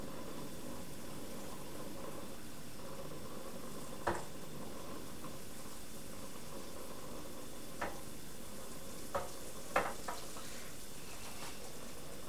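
A wedge of butter melting and sizzling in a pan for a chowder-style soup, a soft continuous hiss with a handful of faint clicks and taps spread through it, no voices.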